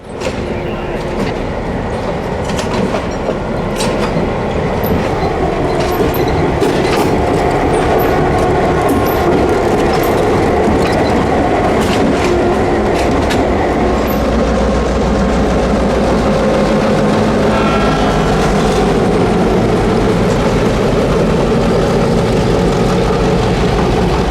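A purple locomotive, number 1510, rolls past on a railroad, a loud, steady rumble with rhythmic clacking and rattling of wheels over the rails that holds close and heavy for the whole stretch.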